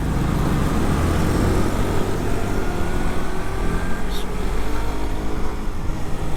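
Suzuki GSX-S150 motorcycle riding on the road, with a steady low engine drone and heavy wind and road rumble throughout, loud and close, with the engine note rising slightly partway through.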